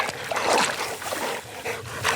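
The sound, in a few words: dog in the water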